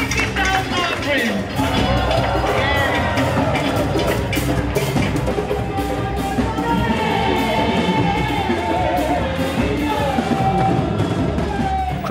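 An African Anglican congregation gives a mighty shout offering, a sustained roar of many voices yelling and cheering together, loud and continuous, with sharp percussive claps or beats scattered through it.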